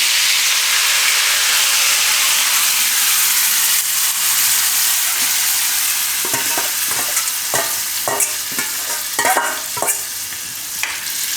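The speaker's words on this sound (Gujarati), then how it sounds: "તો આને આપણે એમાં નાખી દેવું બધું ફ્લાવર. આખું આમાં નાખી દેવાનું છે." Cauliflower florets sizzle and hiss in a pan of yogurt-tomato masala as they are stirred in for a Gujarati tandoori dish, a loud steady frying hiss with scraping stir strokes growing more distinct toward the end, no speech.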